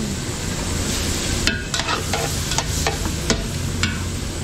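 Garlic sautéing in margarine in a pan for a large catering batch, a steady sizzle broken by sharp scraping stirs of a spatula, close and fairly loud with no talk.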